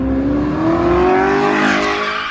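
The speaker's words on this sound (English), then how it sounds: "2019 Audi R8. It's here. And this thing is crazy. 600 horsepower" A 2019 Audi R8 sports car with a 600-horsepower engine drives past, its rising engine whine sweeping upward in pitch as it accelerates, loud and close with no talking.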